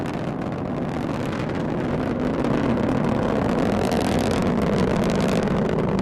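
A Delta IV Heavy rocket launching NASA's Parker Solar Probe, its engines giving a loud, steady, unbroken roar that fills all six seconds with no voices.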